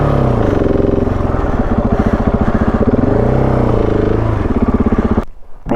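A Husqvarna 701 Enduro motorcycle stuck on a rock on a mountain track revs hard in a loud, close, pulsing engine roar. The rider tries to get it moving, then the engine cuts out abruptly near the end.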